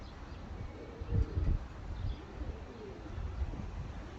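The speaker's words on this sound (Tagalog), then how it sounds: "meron pa tayong ibon dito na tinatago" Low, soft cooing of pigeons under a steady outdoor hiss, with a few muffled bursts of fluttering or movement.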